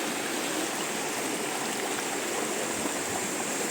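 River water rushing steadily over rocks at a riverside spot in Buenavista, Murcia, a dense, continuous broadband wash close to the listener with no talk.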